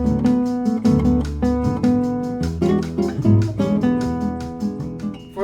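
Solo guitar plays a chord-melody arrangement of a jazz samba tune, plucked chords with a melody on top in a relaxed bossa rhythm, close and clear with no talk.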